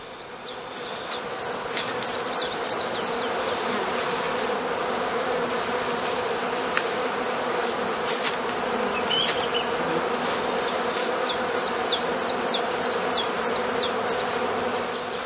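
Honey bees buzz steadily and densely around heather skeps in a heathland apiary during spring work, a continuous close swarm drone with scattered individual bees passing near, no voices.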